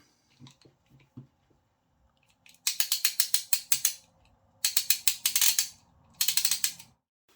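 KATSU 1/2 inch socket set ratchet clicking close up in three quick bursts of rapid, crisp pawl clicks, with a few soft handling knocks before the first burst and no talking.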